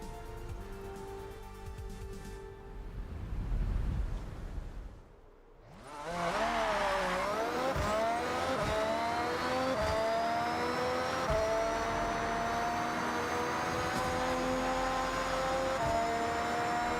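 Mercedes-AMG car in Forza Horizon 6 driving a dirt road, a rumbling engine that briefly drops away, then surges back as the revs climb into a sustained, loud high-pitched whine.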